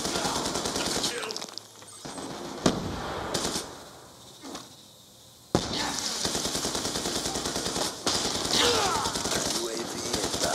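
Rapid machine-gun fire from a Dragon Fire drone in Black Ops II, loud and sustained in long bursts, broken by a brief lull and a sharp crack before heavy firing resumes, with voices underneath.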